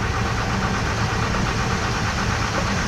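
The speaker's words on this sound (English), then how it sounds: "So while the ute's sit there idling," A Mazda Bravo V6 ute engine idles steadily, a constant close rumble with a faint knocking pulse and no speech over it.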